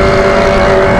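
A Yamaha XJ6 motorcycle with a straight-pipe exhaust roars loudly and close, a steady, buzzing engine drone held for a brief moment.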